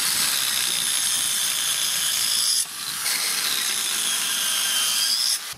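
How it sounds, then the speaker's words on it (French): A 500-watt mini power saw rasps steadily through wood in two sustained passes, with a brief break between them, loud and close. "Une mini scie, on est sur du 500 watts."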